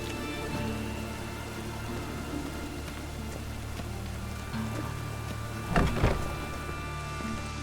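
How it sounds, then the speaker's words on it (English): Steady rain in The Witcher 3: Wild Hunt patters and hisses over a low rumble, with a brief louder rustling burst toward the end. "Raining again"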